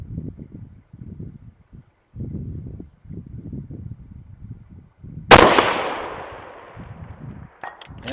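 A single loud, close precision rifle shot from a PRS setup cracks sharply and rolls into a long decaying echo, after steady muffled talk from nearby shooters that stops just before the blast.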